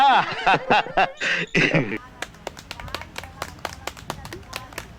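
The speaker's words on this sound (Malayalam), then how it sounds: "നല്ലൊരു ക്ലാപ്പ്" An audience at a quiz-style gathering claps for a correct answer, a scattered run of distinct claps and light laughter following a brief burst of talk and chuckling, close and moderately loud.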